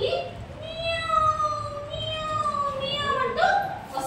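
A storyteller imitates a cat's meow in a drawn-out, wavering voice, a long rising and falling mew lasting several seconds, close and clear with a faint murmur behind it.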